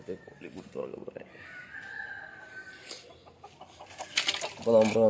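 Native country chickens being fed rice bran cluck and call close by in a short burst, with a louder cackle near the end and a voice talking over parts of it.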